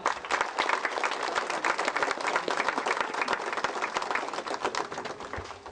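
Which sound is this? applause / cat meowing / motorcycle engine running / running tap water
applause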